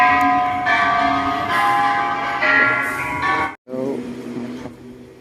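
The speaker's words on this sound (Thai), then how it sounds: "ฝั่งนู้นมีระฆังนะครับ" A temple bell rings loud and close, its rich metallic tone ringing on and swelling with repeated strikes, then a brief break before another strike starts a fresh ringing.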